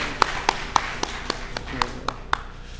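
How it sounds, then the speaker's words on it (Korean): A congregation claps in welcome during a Sunday worship service at a church: about nine distinct, evenly spaced claps at a steady rhythm, fairly faint and somewhat distant, with no talking over them. "우리 환영의 박수 격려의 박수 드리겠습니다"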